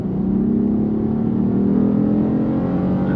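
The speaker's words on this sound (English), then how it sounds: "I'll go ahead and do a quick acceleration test here" A V6 engine in a 2007-2013 second-generation Acura MDX SUV accelerates with a steady, droning hum from inside the cabin. It stays loud and constant throughout, with no one speaking.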